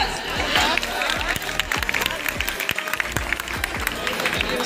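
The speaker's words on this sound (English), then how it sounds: "A big round of applause" A crowd claps at a school farewell gathering, the applause steady and fairly loud throughout, with individual sharp claps standing out near the recorder and a background murmur of voices.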